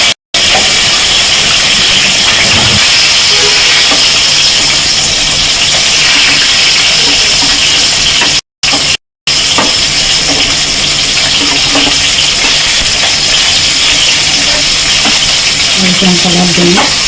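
Fish and fish roe fry in oil with a loud, continuous sizzle and hiss, steady throughout apart from two brief cuts, with occasional stirring clinks.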